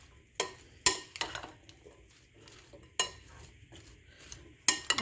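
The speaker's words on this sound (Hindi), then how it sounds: "सारे फ्रूट्स को मिक्स कर लेना है।" Spoon stirring fresh fruit pieces for fruit chaat with fresh orange juice, a series of close, uneven clinks and wet scrapes against a bowl, no talking.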